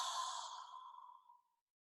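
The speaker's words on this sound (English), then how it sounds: "take a nice deep breath" One soft, close exhale during a breathing exercise, a breathy sigh that fades out over about a second and a half and leaves silence.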